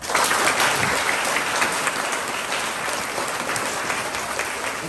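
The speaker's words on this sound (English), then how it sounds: "And Mrs. Avery, we might give Jasmine one last big clap." Dense, steady applause fills a school presentation day as a hall of students and families claps for the Student of the Year award, loud and sustained with no talking.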